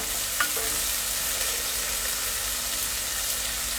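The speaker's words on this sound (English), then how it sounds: "And my heat's quite high. The onions are being fried" Onions frying in a pan over high heat for a prawn curry, a steady close sizzle with faint stirring scrapes, no voices.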